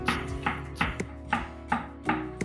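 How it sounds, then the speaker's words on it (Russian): Steady knife chops on a cutting board, cutting a large bell pepper into strips, about six evenly spaced strokes in a brisk rhythm, close and clear with no talking. "А затем нарезать соломкой."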